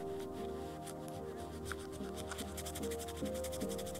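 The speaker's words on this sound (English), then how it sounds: "You apply a little bit of pressure and you're just going to rub it." A leather edge on a magnetic key pouch is burnished by rubbing it with a paper towel under pressure, producing a soft, steady back-and-forth friction sound, faint and close, with a low constant hum behind it.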